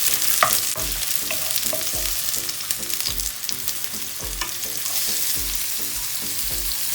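Onions frying in hot oil for chicken jalfrezi, a steady sizzle with a crackling hiss, close and fairly loud, plus regular low thumps and a few clicks of a utensil against the pan.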